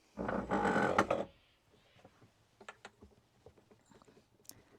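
Campervan kitchen table mount mechanism being tightened by hand: a loud burst of rattling and scraping up front, then a run of small clicks, creaks and knocks at close range with quiet gaps between them.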